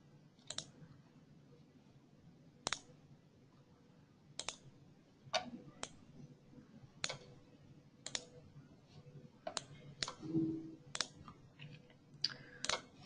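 Mouse clicks while working in automation software, sharp isolated taps spaced irregularly over a quiet background, a few coming in quick pairs near the end.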